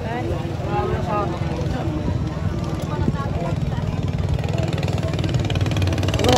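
Boat engine running steadily at a bangkarera boat race in Pola, Oriental Mindoro, a constant mid-pitched motor drone throughout, with people talking over it.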